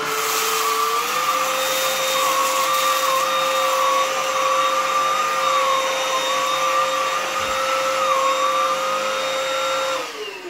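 A Black + Decker CUA525BH cordless vacuum cleaner runs continuously with a loud, steady motor whine and airflow hiss, powering down at the very end.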